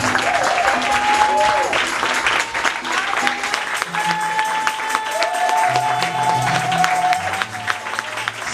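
A congregation applauds and cheers through a night prayer service, steady crowd clapping and voices filling the room continuously, with a sustained tone running beneath.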